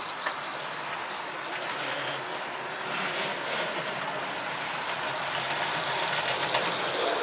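Model garden railway locomotive, a J3, running on dirty outdoor track, a steady mechanical rumble and clatter that builds slightly as it approaches, with no talk.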